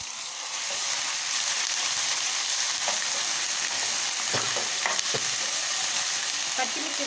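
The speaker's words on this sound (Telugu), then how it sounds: "ఇప్పుడు ఇక్కడ ఫ్రై అవుతున్నాయి ఆనియన్ పేస్ట్, అల్లం వెల్లుల్లి పేస్ట్" Onion paste and ginger garlic paste with salt, chili powder and turmeric fry in a pan for egg biryani, a steady close sizzle with occasional stirring scrapes and clinks throughout.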